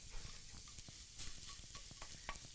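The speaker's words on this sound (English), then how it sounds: "We're browning up the sausage, as I was saying." Sausage browning in a pan gives a soft, steady sizzle with scattered small pops and the scrape of a utensil stirring, moderately quiet and without talk.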